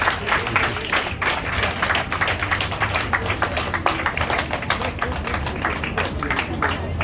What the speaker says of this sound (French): Applaudissements pour vous.